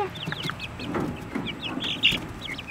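Backyard chickens cluck in short repeated bursts close by in an outdoor garden, with bird calls overlapping throughout.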